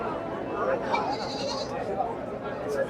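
A four-toothed female goat bleats at a busy livestock market, its cries rising briefly over a constant layer of nearby talk and crowd chatter.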